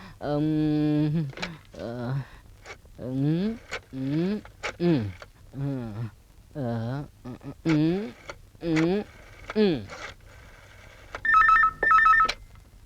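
A telephone rings briefly near the end with two quick electronic trills, after a long run of voiced, sliding tones and talk.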